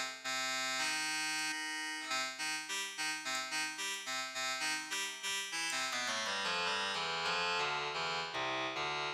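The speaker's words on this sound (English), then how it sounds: "If we go back to play and switch reverb on" Roland Zenbeats SampleVerse instrument plays a run of bright, harmonically rich synthesized tones with reverb, repeated notes stepping through a melodic pattern, then sliding into shifting pitches, clean and alone without talk.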